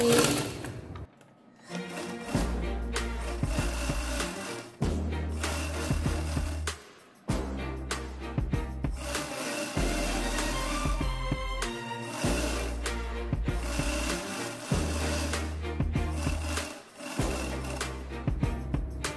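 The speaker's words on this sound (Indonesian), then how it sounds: "Nah, kita jahit mulai dari bagian bawah sleting." A sewing machine stitches a zipper lining, its fast mechanical chatter running in repeated bursts separated by short pauses, close and steady.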